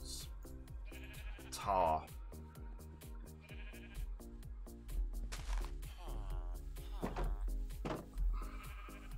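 Sheep bleating in the Minecraft video game: several short bleats rise over a steady game music bed, with someone talking throughout.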